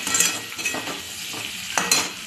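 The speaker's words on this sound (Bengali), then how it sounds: "দেখতে পাচ্ছ চিংড়ি মাছটা আর আলুটা পেঁয়াজটা প্রায় ভাজাই হয়ে গেছে।" Prawns, potato and onion frying in a pan, a soft hiss of hot oil broken by scraping and stirring strokes and a couple of sharp clinks of a utensil against the metal.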